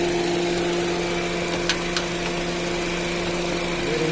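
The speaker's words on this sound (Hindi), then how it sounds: "गाड़ी चालू है और कंप्रेसर भी अपना ऑन है, देख पा रहे हैं इंजन चालू है" Honda City car engine idling with the AC compressor running, a steady close low hum with constant tones and a couple of faint clicks, no talk.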